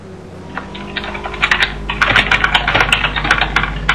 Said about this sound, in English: as Ryan spazzes out on his keyboard